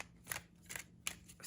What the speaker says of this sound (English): You can get a decent shuffle.